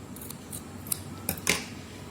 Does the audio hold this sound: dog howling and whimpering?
no